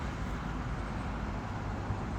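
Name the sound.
riding on a bus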